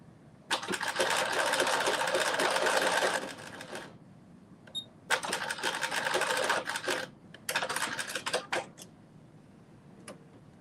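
A sewing machine runs a zigzag stitch on dress fabric in three motor-driven bursts of a few seconds each, with short pauses between them, steady and fairly close.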